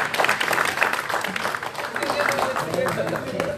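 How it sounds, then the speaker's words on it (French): At a pastors' anniversary gathering, the audience claps for the comedians, a brisk crowd of hands ringing out close by, mixed with voices and cheers throughout. "Un bel applaudissement pour comédien."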